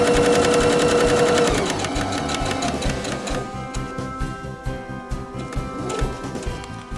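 A sewing machine stitching a tote bag corner runs as a fast, steady mechanical hum and needle clatter, close and loud, then slows into looser, irregular stitching.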